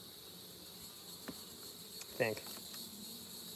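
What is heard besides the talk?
honeybees buzzing at an opened hive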